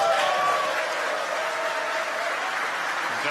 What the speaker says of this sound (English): You can hear the applause behind us.